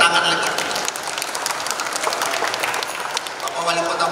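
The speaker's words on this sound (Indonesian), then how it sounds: "Boleh kasih tepuk tangan lagi." Applause from an audience at an evening tourism, culture and creative economy appreciation event in Batam fills the whole stretch, a steady dense wash of clapping at moderate loudness.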